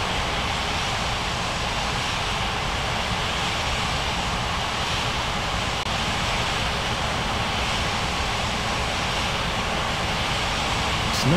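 Airplane jet engines roar steadily in an air traffic control simulator game, a loud continuous broadband rumble and whine that holds unbroken throughout with no voices over it.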